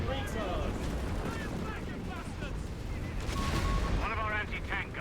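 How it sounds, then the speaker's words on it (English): Artillery barrage in a multiplayer strategy game tournament, dense rumbling booms and crackling impacts under continuous game noise, with a voice talking over it. "All this artillery coming down, taking out all the AT."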